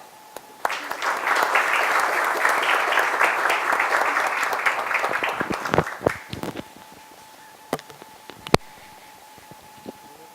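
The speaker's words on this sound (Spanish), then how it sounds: "pido que recibamos con un especial aplauso al señor vicealmirante Luis Gianpietri Rojas" Audience applause welcoming a vice admiral to speak at a legal and historical talk, a dense burst of many hands clapping for about six seconds, then tapering into a few scattered claps and thumps.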